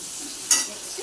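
Onion frying in oil with fennel and cumin seeds gives a soft, close sizzle, broken by one brief scraping stir partway through.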